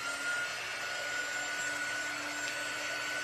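A hair dryer blows a steady, whining airflow close by while drying paint on ice skate winter decor, constant and alone without pauses.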